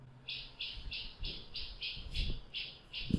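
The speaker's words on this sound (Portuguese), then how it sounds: "O passarinho está ali." A bird gives a rapid series of about ten regular, evenly spaced squawking chirps against a low, murky background.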